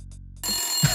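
A telephone in the point-and-click game Maniac Mansion Mania rings with a short electronic trill, brief and close.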